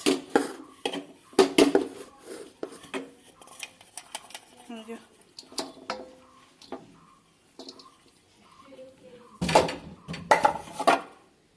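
Rice being spooned onto layered biryani in a pot, with repeated metallic clinks and scrapes of a spoon against the vessel, loudest at the start and near the end, while someone talks throughout.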